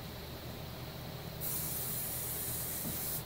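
Aerosol can spraying onto piano hammers, a sharp steady hiss that bursts in loudly about halfway through and holds close and continuous to the end, over a faint room background.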